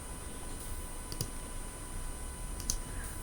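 A few faint, sharp clicks of a computer mouse sound sparsely over quiet room hiss while working in Photoshop.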